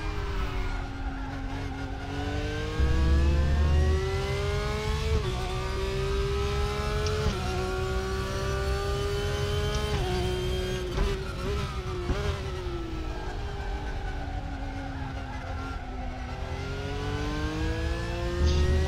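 Porsche 911 GT3R in a racing game, engine revving hard and continuously with rising and falling pitch through gear shifts, loud and close, occasional tire scrub, no talk.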